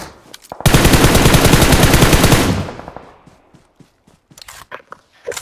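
Rapid automatic gunfire from a shooting video game rattles loudly for about two seconds, then dies away into scattered clicks and light taps.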